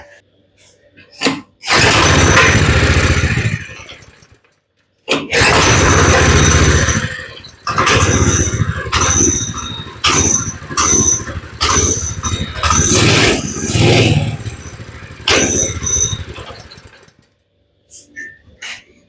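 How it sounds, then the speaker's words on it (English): A Critter II go-kart engine cranks in short bursts, then catches and runs loud and steady with uneven rhythmic pulses before cutting out near the end, heard up close with no talk. "She is definitely a running engine."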